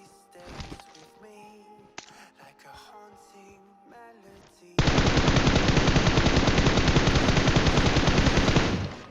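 Quiet PUBG Mobile game ambience and scattered clicks give way to a loud, sustained burst of rapid automatic gunfire that runs without pause to the end.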